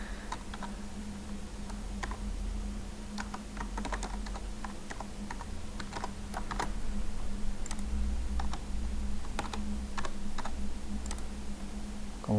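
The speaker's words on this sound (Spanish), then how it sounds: "Digitamos las credenciales y la contraseña que viene en la carcasa del equipo." Login credentials are typed on a computer keyboard, a fast irregular run of close, crisp key clicks over a faint steady hum, with no talking.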